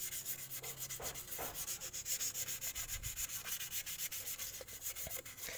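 A Suzuki Carry Futura brake piston is rubbed down by hand with abrasive, a brisk, rhythmic scratchy back-and-forth sanding stroke repeating steadily and close up, with no talk.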